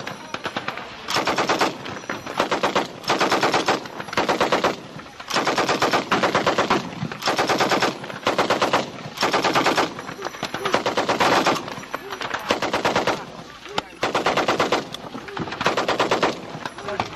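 An M60 machine gun fires in repeated loud bursts during U.S. Army training at Fort Leonard Wood in 1999. Each burst lasts about a second, with short gaps between them.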